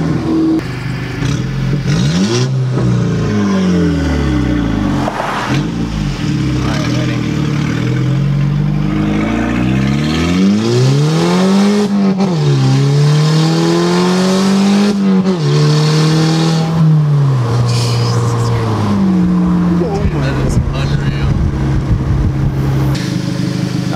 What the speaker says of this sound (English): So we're gonna do a few revs and flybys just so you guys can hear what it sounds like.